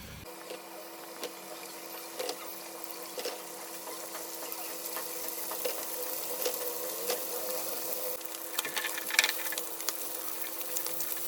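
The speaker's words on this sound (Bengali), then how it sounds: "এই মাছ তেলের মধ্যে আমি এখন মাছগুলি ভেজে নিব" Poa sea fish frying in plenty of hot oil, a steady sizzling hiss with crackles that grows busier toward the end, heard alone without talk.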